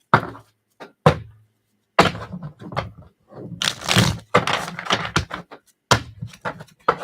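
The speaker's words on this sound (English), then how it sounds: "Shuffles." A deck of tarot cards is shuffled by hand in several short, crisp bursts of riffling and tapping, close and fairly loud, separated by brief pauses.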